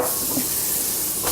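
Celery, bell pepper and onion hit a hot pot for Cajun gumbo, giving a steady close hiss and sizzle that swells briefly near the end.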